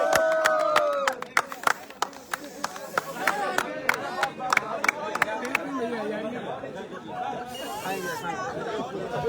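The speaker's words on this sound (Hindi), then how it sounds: "ताली बजाइए," A crowd claps at a cake cutting, a burst of sharp, separate claps near the start under lively chatter and a celebratory hubbub, with people talking throughout.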